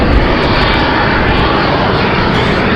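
A United airliner departing Raleigh-Durham airport roars loudly and steadily with a dense, continuous engine rumble, close by and without pause.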